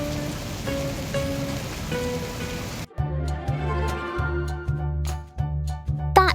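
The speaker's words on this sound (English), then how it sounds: "After sowing the seeds, a rain shower fell" Cartoon rain shower falling on a Peppa Pig garden plot with newly sown strawberry seeds, steady pattering rain that begins over a soft background and continues with rhythmic repeated droplet sounds, with no one talking.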